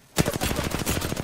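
Rapid automatic gunfire from an Apex Legends match in the Skulltown area during Gun Run mode, a steady stream of close, loud shots rattling along without a break.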